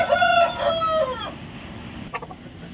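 A rooster crows loudly and close for over a second on a farm keeping native country chickens, followed by a brief burst of short clucks from the flock.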